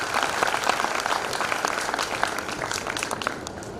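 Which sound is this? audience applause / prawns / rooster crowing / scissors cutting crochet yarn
audience applause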